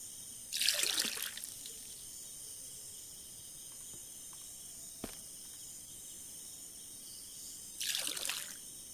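Water trickles in the survival video game MIST Survival, two short splashy bursts near the start and end over a constant high insect-like chirring ambience, with a tiny click in between.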